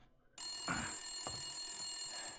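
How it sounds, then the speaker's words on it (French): A telephone rings twice in the BlackSad detective video game, a short electronic trill over a steady high background tone with no talk. "T'es sûr que le téléphone allait sonner encore?"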